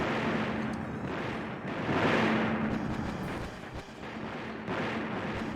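Gunfire and explosions rake the player's position in the video game Battle Engine Aquila, a dense, continuous roar of blasts and shots with brief swells, loud and close, no talking over it.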